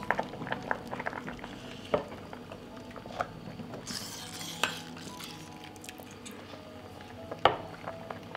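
Glass jars rattle and knock in a pot of boiling water, with a soft bubbling bed broken by sharp clinks and taps at irregular intervals.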